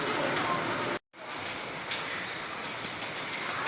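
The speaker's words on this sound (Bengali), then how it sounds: "আর উপায় নেই, যা বৃষ্টি হচ্ছে" Heavy monsoon rain pours down at a temple town in a dense, steady hiss that briefly cuts out for a moment before resuming.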